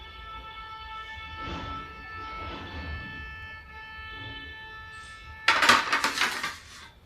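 A spoon scrapes and clinks against a bowl as spinach, paneer and other ingredients are mixed for palak paneer muthiya. It starts as soft scraping, then brief loud metallic clatter, with a steady tonal hum in the background.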